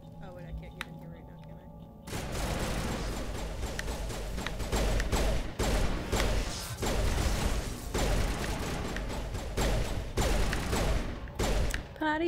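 Rapid bursts of gunfire from the video game Mass Effect crackle in dense volleys with sharp individual shots, loud and close after a quiet start, with occasional mechanical clatter.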